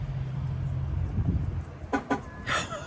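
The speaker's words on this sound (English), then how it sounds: "Did you hear it beep?" A car with gull-wing doors gives two short electronic chirps as it is unlocked with the key, followed by a softer third blip, heard close over low background rumble.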